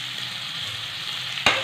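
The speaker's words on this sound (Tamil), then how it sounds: "சிக்கனையும் போட்டு நல்லா வதக்கிக்கோங்க." Chicken sautéing in a pan for pepper chicken gravy, a steady close sizzle running throughout with a brief sharper crackle or scrape near the end; no voices.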